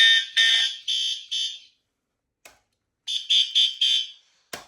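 An EST fire alarm horn mounted on a scooter, damaged in a collision and working only intermittently, blares in four steady bursts, falls silent with a couple of faint clicks, then sounds four more bursts before a final sharp click.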